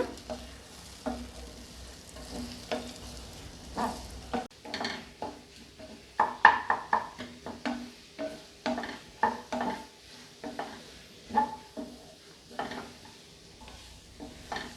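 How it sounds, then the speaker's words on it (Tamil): A spoon stirs chatti pathiri filling in a pan, with repeated scraping strokes and soft clinks against the metal over a low sizzle, close and steady throughout. "நல்ல கிளறி விட்டுக்கோங்க."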